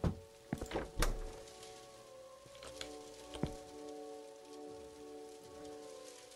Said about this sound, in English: It's just a rain. It's fine.